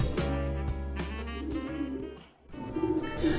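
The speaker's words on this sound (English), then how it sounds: "Harshian Pouter Pigeon." Harshian Pouter pigeons coo in low, rounded repeated calls, several birds overlapping close by with a short pause before the cooing resumes.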